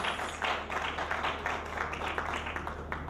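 Audience applause at a pageant for Miss Ekiti, a moderate wash of clapping with some individual claps standing out, fairly quiet and continuing steadily throughout.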